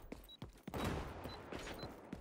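A burst of rapid gunfire rings out in the online shooter XDefiant, with several sharp shots followed by a dense, sustained volley, loud and up close, with no voices over it.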